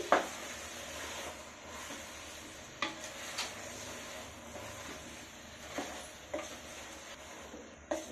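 Vegetable biryani being stirred in a pot, with soft scraping and squishing and occasional sharp clinks of a spoon against the rim, spaced irregularly over a quiet hiss.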